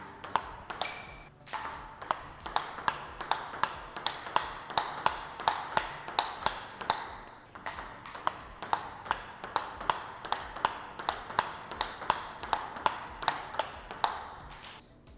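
Table tennis ball struck back and forth with Dignix rubber paddles, a steady run of sharp, bright pings roughly every half second, close and clear with no talk over the rally.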